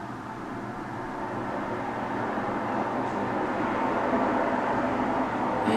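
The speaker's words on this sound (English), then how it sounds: "I am so sorry about the traffic," Road traffic coming through a slightly open window, a continuous broadband rush of passing vehicles that swells slightly toward the end, with no voices.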